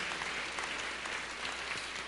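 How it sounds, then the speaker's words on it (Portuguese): A church congregation claps together during a worship service, a continuous even roar of many hands applauding at a distance, steady and uninterrupted throughout. "Aplauda Jesus, queridos."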